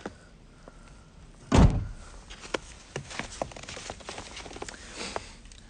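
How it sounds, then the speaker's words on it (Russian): A single solid thump of a Ford Fusion trunk lid shutting, followed by faint clicks and small rattles in a quiet setting. "Не забываем закрыть багажник."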